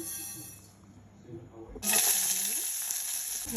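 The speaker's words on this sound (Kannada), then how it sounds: "ಸಾಸಿವೆ ಹಾಕ್ತಾಯಿದ್ದೀನಿ" Mustard seeds hit hot oil for a tempering, bursting into a sudden bright, loud sizzle with crackling pops halfway through after a quieter kitchen start, close and alone.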